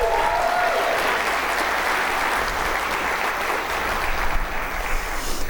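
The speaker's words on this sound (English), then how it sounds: "Why don't we give them another round of applause?" A large audience at a State of the City 2023 event applauds in a dense, steady wash of clapping that stays loud and unbroken throughout, with no speech over it.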